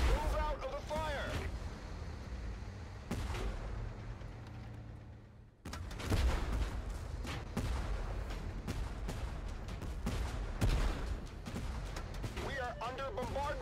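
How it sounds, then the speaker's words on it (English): Heavy artillery explosions and cannon fire in the tank combat game Tank Force, with repeated booming blasts and rumbling impacts over a steady engine drone, loud and close throughout. "Under bombardment"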